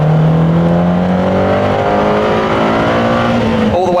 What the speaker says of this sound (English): as soon as you get into the turbo spool, and you can really hear it spool